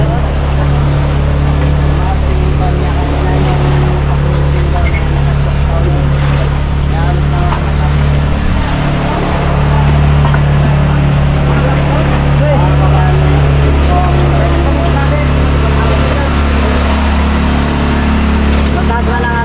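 A fishing boat's motorboat engine runs loud and steady, a constant low droning hum that fills the whole stretch, with wind and water noise and people talking over it.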